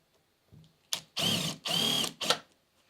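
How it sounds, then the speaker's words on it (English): A screwdriver, most likely powered, drives screws into a Eufy C210 smart lock on a door, sounding as two sustained whirring bursts between brief shorter buzzes, close and loud, with no talk. "Then you can go ahead and use a screwdriver to save some time."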